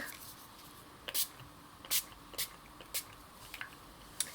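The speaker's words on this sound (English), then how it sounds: "we're just going to spritz some of it around, put in a little bit of the Hickory Smoke" Quick bursts of spray ink misted onto a gel press printing plate, Hickory Smoke among the colors, come as about seven short, crisp hissing spritzes spaced irregularly over a quiet room.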